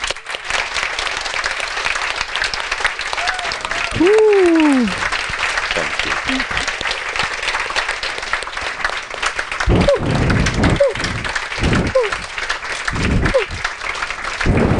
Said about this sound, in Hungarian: Köszönjük a figyelmet, tapsoljuk meg!